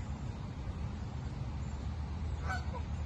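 A few goose honks sound briefly near the end, fairly distant, over a steady outdoor background hum in a park.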